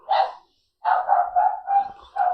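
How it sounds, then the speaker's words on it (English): Dogs bark indoors in a house, a single loud bark followed by a short pause and then a quick run of four or five close barks ending with another bark. "And her dogs are barking, which is okay."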